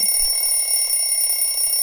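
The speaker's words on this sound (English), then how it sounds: "Fight the alarm. Don't snooze it." A phone alarm rings steadily and loudly, a continuous electronic trill that fills the whole short stretch with no other sounds.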